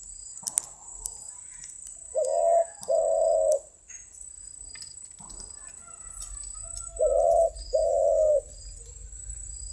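A male dove coos in two pairs of soft, low, hollow notes separated by a pause, with faint chirps and an insect drone in the background.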